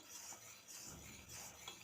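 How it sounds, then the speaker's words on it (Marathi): A spoon scrapes and stirs through a thickening home-remedy mixture as it simmers in a pot, soft repeated strokes with faint clinks, quiet and close. "आता इथे आपल्या मिश्रणाला उकळ आलेलं आहे तेव्हा एकसारखं सतत असं चमच्याने हलवत राहायचं आहे"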